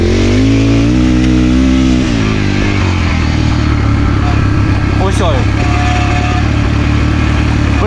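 A tuned 172FMM motorcycle engine revs loudly and steadily on a downhill run, its tone rising and shifting, while someone talks over it.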